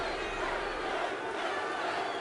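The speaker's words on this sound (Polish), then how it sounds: "Ale wiwatują." A steady wash of arena crowd cheering and roaring fills the background of a gladiator arena in the video game Hype: The Time Quest, continuous and moderately loud without pauses.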